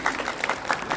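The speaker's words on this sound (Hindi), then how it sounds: "सृष्टि मैडम के लिए तालियां बजाइए" An audience at an Uttarakhand cultural workshop event held by Doon University applauds after a performance. The clapping is faint and steady, heard from a distance.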